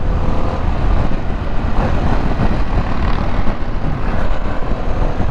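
A 2021 Harley-Davidson Pan America motorcycle rides along, its engine and wind roar forming a loud, steady, continuous rush with no breaks.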